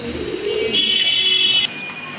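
Pigeons coo at a farm housing local and foreign breeds, a low burbling call close by under a steady high-pitched tone that cuts out near the end.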